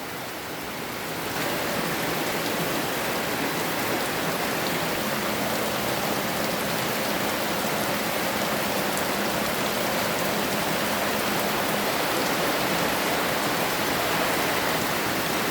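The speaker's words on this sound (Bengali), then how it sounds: "প্রচুর পরিমাণ বৃষ্টি হচ্ছে সকাল সকাল" Heavy morning rain in Cox's Bazar, a dense continuous downpour hissing on surfaces, loud and unbroken throughout with no voices.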